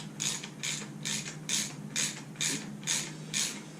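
A ratchet wrench snugs a fastener during motorcycle fork seal reassembly, giving about eight evenly spaced bursts of rapid clicking, close and clear over a low steady hum, with no talking.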